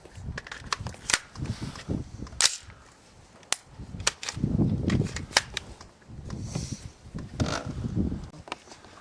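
A .223 pistol with a 7-inch barrel fires PMC 55 grain 5.56/.223 ammunition at a range, giving sharp, loud cracks spaced irregularly, with scattered clicks and faint background noise.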